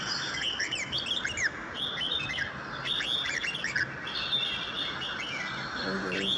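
A flock of birds bathing together, their many overlapping high chirps and tweets continuous and fairly faint over a steady outdoor hiss.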